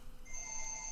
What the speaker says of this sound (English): excuse my phone for ringing